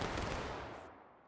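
A crackling volley of musket gunfire rolls out all at once in the War of Rights video game. It is a dense, fairly distant burst of overlapping shots that fades out over about a second.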